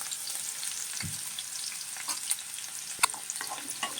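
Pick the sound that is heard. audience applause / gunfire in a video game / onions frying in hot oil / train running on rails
onions frying in hot oil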